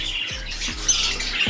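Pet birds kept for a raffle squawk repeatedly, with shrill, harsh calls layered over one another against a steady, noisy background.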